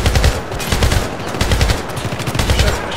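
Rapid automatic gunfire from the PC shooter Syndicate (2012) rattles loud and close in continuous bursts with brief gaps, no voices over it.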